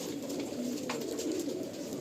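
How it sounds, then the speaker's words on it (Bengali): Pigeons cooing softly in a pigeon loft, a low murmuring coo under steady faint background noise, no talk. "দেখুন এখানে কিছু পায়রা রয়েছে"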